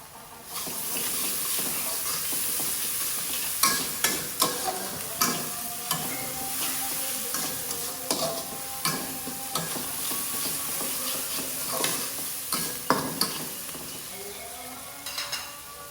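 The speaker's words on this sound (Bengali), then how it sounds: "আধা চা চামচ রসুন কুচি দিয়ে দিলাম" Half a teaspoon of chopped garlic sizzles in a pan for a prawn and bottle gourd curry. A steady hiss runs underneath while a spoon scrapes through it in repeated sharp stirring knocks.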